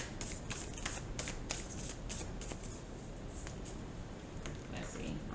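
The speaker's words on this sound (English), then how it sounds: "I'm going to pull an angel answers card. We're first going to pull a divine feminine card" Oracle cards being shuffled by hand, a close, quick run of papery riffles and flicks, with a person talking quietly underneath.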